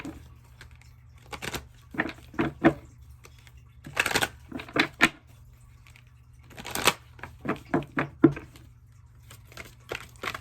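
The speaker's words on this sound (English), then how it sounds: "A couple more shuffles and we're going to get right into it." Tarot cards being shuffled up close, in repeated quick riffling bursts separated by short pauses, with no talking.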